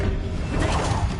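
Expelliarmus spell cast in a Harry Potter video game, a brief loud whoosh with a crackling burst and low thump, lasting about a second.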